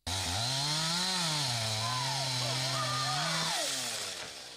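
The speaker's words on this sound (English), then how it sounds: "56 youths of 5 districts in Dakandrove now have the skills and knowledge of safely using chainsaws for tree felling." A chainsaw used for tree felling snarls loud and close, its engine pitch rising and wavering steadily for several seconds before easing off at the end.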